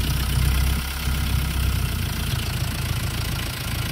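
A Mitsubishi Canter truck's 4D35 diesel engine idles steadily at close range, a continuous low rumble with a faint knocking texture and no voices.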